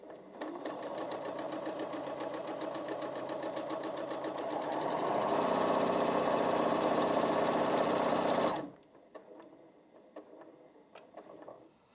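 A Janome MC 6700P sewing machine stitches rapidly, its steady mechanical whir rising to its fastest speed at about 1200 stitches per minute, then stopping abruptly, leaving faint clicks and handling noises.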